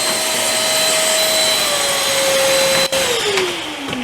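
A loud, steady whine of a Vevor 4-in-1 wet-dry vacuum motor blowing air in blower mode, its pitch sliding lower near the end after a brief interruption.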